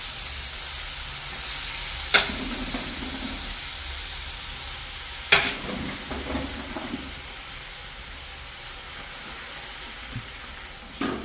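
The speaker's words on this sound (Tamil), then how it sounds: "இப்போ நாங்கள் முதலாவதாக லீட்ஸை வதக்கி எடுப்போம்" Leeks sauté in a pan for chicken fried rice with a low, even hiss of frying, interrupted by two sharp utensil knocks against the pan and a few quiet stirring sounds.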